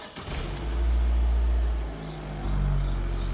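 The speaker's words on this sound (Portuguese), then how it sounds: "Meu carro ele tá com esse barulho parecendo que tá vazando compressão" Engine of a Chevrolet GM car running with a fault that sounds like compression leaking at the exhaust, a steady close low rumble that swells and holds, with no talking.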